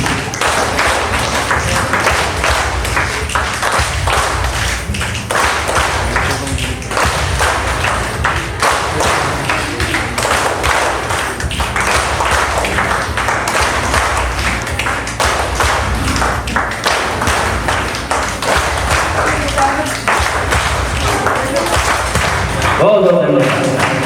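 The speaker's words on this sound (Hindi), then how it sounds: "अब 2 बार चिटकारी करना है और 2 बार ताली बजाना है" Audience at a senior trainers' conference keeps up a steady stream of rhythmic claps and finger snaps, loud and continuous throughout, with a louder burst near the end.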